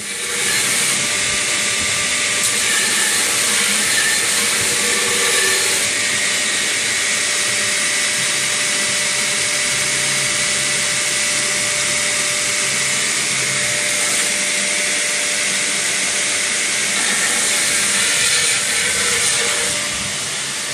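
A knife blade is ground on a grinder, blade facing down, giving a loud, continuous whirring roar with a bright abrasive hiss that holds steady for about twenty seconds with no talk.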